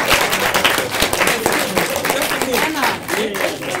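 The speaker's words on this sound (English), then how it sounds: "Can you clap for me, please?" An audience claps at a kizomba artists' discussion, brisk, somewhat uneven clapping mixed with voices talking over it throughout.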